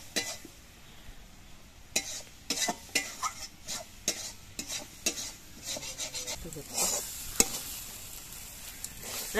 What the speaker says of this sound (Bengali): এবার কিছুক্ষণ আস্তে আস্তে জাল দিয়ে এটাকে শুকিয়ে ফেলতে হবে।